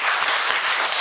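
Applause at a talk on small business, where the speaker had asked the audience to clap: a dense, even wash of hand claps throughout a short burst, steady and fairly loud, with no voices over it.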